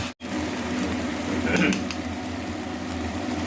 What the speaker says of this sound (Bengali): এগুলোকে এবার আমি ভালো করে কষাবো, কাঁচা গন্ধটা যেন না থাকে, সেইভাবেই আমি এগুলোকে কষাতে থাকবো।